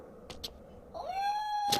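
Possessed cat in Legacy of Kain: Blood Omen 2 lets out a single rising, drawn-out howl after a couple of soft short sounds, fairly faint and heard alone.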